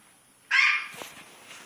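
Puppy Elfie lets out one sharp, loud bark up close, followed by a few softer yips and a scuffling, whining trail-off.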